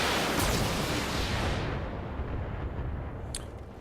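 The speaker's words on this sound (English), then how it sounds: "So you're now going to fire just our LRMs." A volley of LRM missiles launching in BattleTech, a loud rushing roar of overlapping blasts that slowly fades into a decaying rumble, with a brief sharp crack near the end.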